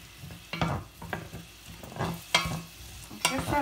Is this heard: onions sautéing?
yes